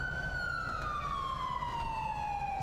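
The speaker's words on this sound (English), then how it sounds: "Sir, turn your sirens off." A police car siren in the GTA video game wails steadily at close range, its tone gliding slowly downward over low engine rumble, with no talk.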